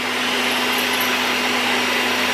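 A steady, loud mechanical whir of drilling into a horizontal stabiliser part for the Aussie Invader 5R fills the whole stretch, an even broadband roar with a constant hum beneath and no pauses.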